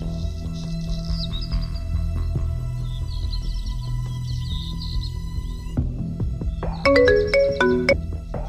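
A phone ringtone plays in a Punjabi film scene: soft electronic chiming tones over a low background hum, then a louder, brighter melodic burst of repeating notes toward the end.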